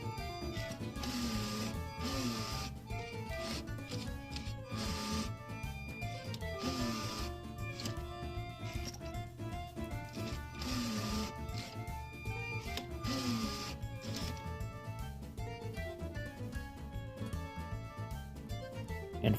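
A LEGO Mindstorms 51515 robot printing letters onto an Easter egg, continuous whirring and stepping motor tones that shift pitch in short repeated bursts, mechanical and steady throughout with no speech.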